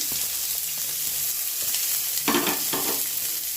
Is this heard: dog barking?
no